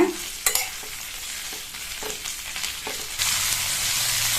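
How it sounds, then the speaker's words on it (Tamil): Chopped capsicum stir-fries in oil over a high flame, sizzling steadily with scattered spatula scrapes and clinks, then swelling into a louder, continuous hiss toward the end. "கேப்சிகத்தை சேர்த்ததுக்கு அப்புறமா நல்லா ஹை ஃப்ளேமில் வச்சு ஒரு 2 நிமிஷத்துக்கு இந்த எண்ணெயிலேயே நல்லா பரட்டி விட்டுக்கோங்க"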